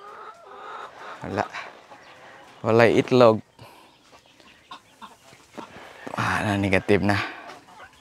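Free-range chickens clucking around a coop, several loud close bursts of clucking and squawking between quieter stretches, with a person speaking at times.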